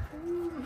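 A single soft, low coo from a pigeon, held briefly and close, with no voices around it.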